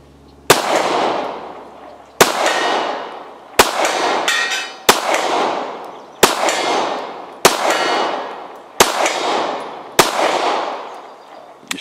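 Eight sharp, loud pistol shots from an H&K P7 PSP, fired at a steady pace about one and a half seconds apart, each crack followed by a brief ringing decay, with no talk between them.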